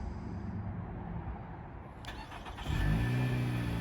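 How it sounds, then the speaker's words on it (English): A 2020 Nissan Altima starts by remote start: a brief cranking whir, then the engine catches and settles into a steady, moderately loud idle. "So to remote start the Altima, all you have to do is just go ahead and lock it once"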